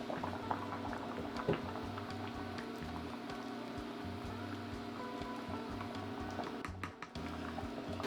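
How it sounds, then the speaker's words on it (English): A pot of Jamaican pumpkin seasoned rice boils steadily, its bubbling and burbling close up and continuous, with a low hum underneath. "Now that the rice is boiling, I'm going to give it another stir."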